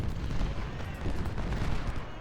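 Dense massed musket and cannon fire rolls continuously through a Civil War battle in Ultimate General: Civil War, the Battle of Fredericksburg, with overlapping distant volleys forming a thick, loud rumble.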